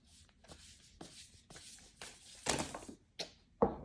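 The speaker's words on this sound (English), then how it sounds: "What is with my shuffling?" Tarot cards shuffled by hand during a mediumship reading, a string of short papery riffles and slaps in bursts, close and moderately loud with no talking.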